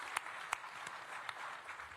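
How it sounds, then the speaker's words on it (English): An audience applauds at a downtown Washington civic gathering, a steady wash of clapping with a few sharper individual claps standing out, moderately distant and without talk. "Give those ladies a big round of applause."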